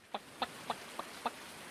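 Five short, evenly spaced clucks from a chicken in a farming video game, crisp and fairly close over a steady low background hiss, with no talk.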